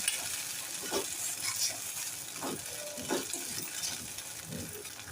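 A spoon stirs a sizzling pan of cabbage Manchurian with added slurry in several slow, scraping strokes, close by, over a steady frying hiss.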